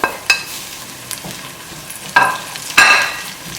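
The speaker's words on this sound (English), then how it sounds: "now the onion looks pretty translucent and I am going to add the ground beef" Ground beef and translucent onions fry in a pan with a steady close sizzle, broken by several sharp scrapes and clacks of a spoon or spatula stirring the meat.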